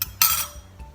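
Spoon stirring a mango matcha drink in a glass gives a quick bright clink followed by a short scraping swirl and a faint second tap, close up with no talk.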